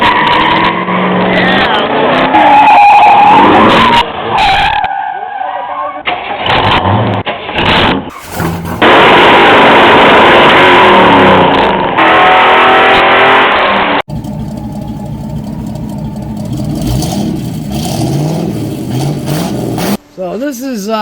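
A 1976 El Camino driven daily, heard from close by as a steady engine and road drone with shifts in loudness and a few abrupt changes, with no talk over it.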